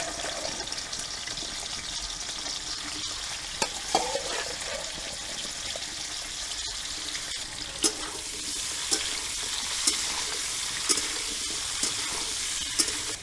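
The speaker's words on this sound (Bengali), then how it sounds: "হালকা করে আমি ভেজে নেবো" Jackfruit and potato frying in oil in a wok, a steady close sizzle with occasional stirring clinks and scrapes, no voices.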